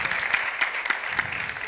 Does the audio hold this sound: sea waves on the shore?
no